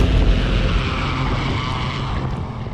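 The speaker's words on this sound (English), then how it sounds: "It's essentially a fixed-wing aircraft that has a VTOL component that allows it to take off vertically and then fly as a traditional fixed wing" A Bridger Aerospace FVR-90 fixed-wing VTOL drone flies with a steady, continuous engine and propeller drone, fairly close and loud, mixed with some wind noise throughout.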